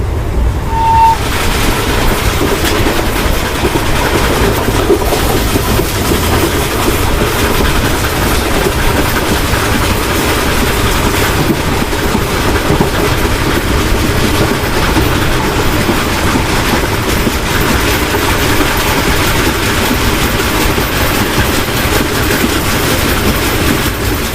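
A passenger train crosses the sandy Thar desert on the route to Pakistan, a loud, unbroken rumble of wheels and carriages with steady rail clatter heard close throughout, with no voices.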